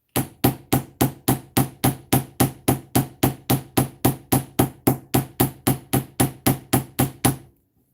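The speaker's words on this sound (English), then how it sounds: "just using the same weighted hammer, the same kind of stroke, it flattens it out" Weighted hammer striking brass wire to flatten it, about 24 steady, evenly spaced blows over seven seconds, close and loud, then stopping.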